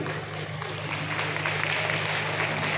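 An audience claps steadily at a Brahma Kumaris Gita Jayanti gathering in Gharaunda, a continuous even patter of many hands at moderate distance over a low steady hum.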